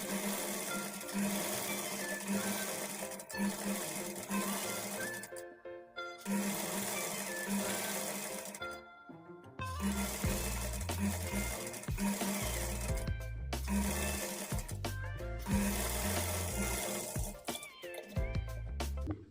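A sewing machine stitches a blouse with its lining, humming loudly and almost continuously at close range, with a couple of short breaks and a steady low tone underneath.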